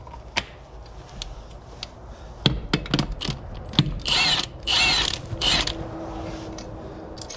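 A ratchet with a socket tightens a bolt during farm work on a drive belt. It gives sharp clicking strokes and bursts of ratcheting, loud and close, with metallic clatter between them and no talk.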